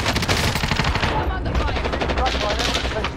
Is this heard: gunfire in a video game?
yes